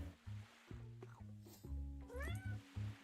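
A cat meows repeatedly up close, a series of short, clear tonal meows with a couple of drawn-out wavering calls, fairly quiet overall.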